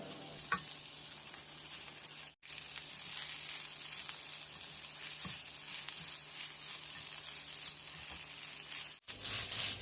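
Rice stir-fried with butter and garlic for shrimp and Chinese sausage fried rice sizzles steadily in a pan, with soft scraping and tossing of the spatula and two brief pauses.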